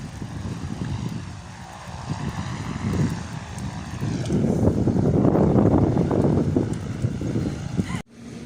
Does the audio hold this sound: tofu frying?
no